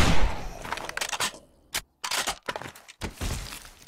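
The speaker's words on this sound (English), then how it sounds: "Let's try out our rifle" Rifle firing 7.62 rounds in the survival game 7 Days To Die: several loud, sharp single shots spaced irregularly, each with a short decay, no talking.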